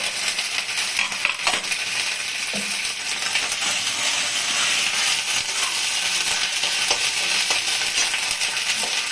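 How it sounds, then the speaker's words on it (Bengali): Ginger paste frying in a Bengali spice tempering for shukto dal, a steady close sizzle and crackle of hot oil running throughout with occasional light stirring clinks against the pan. "আদা বাটাটা দিয়ে দিলাম ফোড়নে।"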